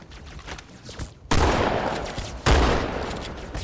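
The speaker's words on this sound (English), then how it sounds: "Just come up here and snipe him in the head and shotgun him off the platform?" Sniper and shotgun fire in Halo 2: two loud, sharp blasts about a second apart, each trailing into a long rumbling decay over a busy game background, with no voices.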